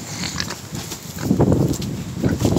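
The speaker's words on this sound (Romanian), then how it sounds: "Aici avem la porci." Pigs on a farm grunt and snuffle in a busy pen, a dense mix of low grunts and squeals at close range, growing louder toward the end.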